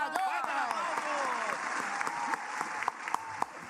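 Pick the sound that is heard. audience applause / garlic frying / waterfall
audience applause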